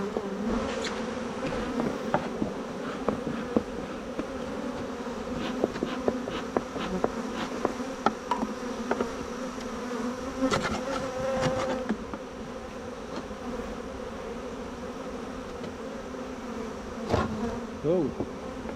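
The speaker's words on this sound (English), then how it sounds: "Shake the bees off." Dense, steady buzzing of many honey bees being shaken off a comb on a homestead, loud and close throughout with sharper bursts as the frames are jolted.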